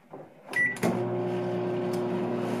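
A microwave oven heating homemade chicken nuggets: a door shuts, a button beeps, then a steady loud electric hum sets in and runs on close by, with no talking.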